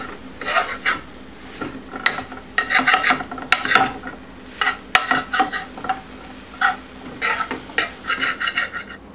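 Tofu and TVP frying in a pan for chili, a steady sizzle broken by repeated scraping bursts of a utensil stirring and knocking against the pan, close and clear.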